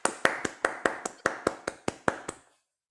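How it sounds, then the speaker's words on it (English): A handful of evenly spaced claps close by, about a dozen sharp slaps at a steady rhythm that taper off and stop, thin for applause at a hackathon showcase. "So a round of applause for BIM Costo team Felix"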